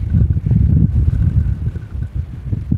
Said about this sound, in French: Il y a énormément de vent, je pense que vous l'entendez.